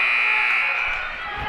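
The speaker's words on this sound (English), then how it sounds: "the whistle blew right before the buzzer" A loud, steady electronic buzzer sounds at a basketball game's end, holding a sustained tone for over a second amid faint crowd noise.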